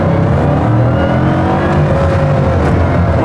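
A Bugatti Divo's engine revs hard under acceleration, a loud continuous roar with rising harmonics that stays close and steady throughout.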